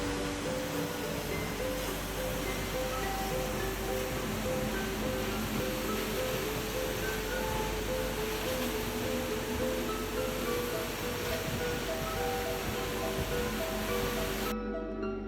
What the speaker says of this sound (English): see this vertical waterfall that drops directly 249 feet over a columnar basalt columns